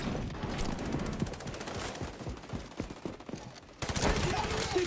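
Video game gunfire, dense overlapping rattling bursts of automatic shots at moderate distance, continuous and busy with a louder burst near the end, no clear talk.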